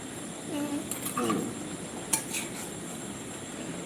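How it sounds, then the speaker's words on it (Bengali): A metal spoon scrapes and clinks against a pot of boiling red lentils a few times over a steady background hiss, with faint bubbling and light knocks. "ডাল কিন্তু ভালো ফুটছে একটু নেড়ে দাও"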